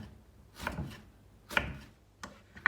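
A few sharp knife chops through eggplant on a cutting board, three separate strikes spaced about a second apart, close and fairly loud.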